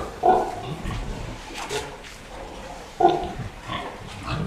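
Pigs on a farm grunt and oink close by in a few short rough bursts, two louder calls standing out among softer snuffling grunts.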